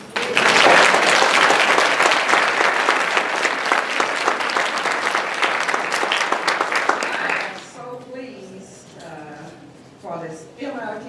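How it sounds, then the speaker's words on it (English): A dense, loud round of applause from an audience at an Emmy celebration fills most of the clip, then fades as a voice speaks over a quieter room. "Let's give a round of applause for just life."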